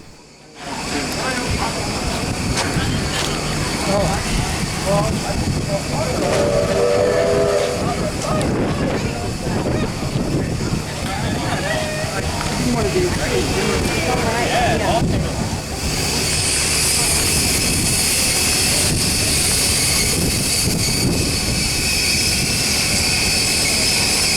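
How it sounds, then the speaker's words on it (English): T-Class diesel locomotives 334 and 356 at the Newport Workshops open day give off a loud, continuous engine roar with hissing air. A brighter, higher tone comes in over the rumble partway through. "Here are T-Class locomotives 334 and 356."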